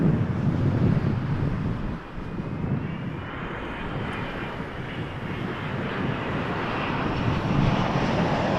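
An airplane takes off from runway 23 at Toronto Pearson Airport, a loud, steady engine roar that fills the whole stretch with a slight swell near the end and no voices.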